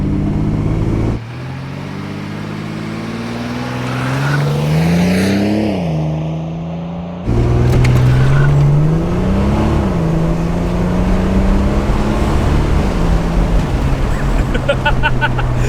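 A GMC Syclone all-wheel-drive turbo truck launches hard, its engine roaring loud and close as the revs climb, dip at a shift, then climb again into a sustained, strained pull.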